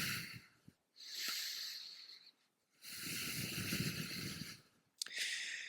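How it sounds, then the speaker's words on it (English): Long, slow, deep breaths during a hatha yoga class, three drawn-out airy inhales and exhales, each lasting one to two seconds and separated by brief pauses, close and alone without talk. "Long, slow, deep breathing."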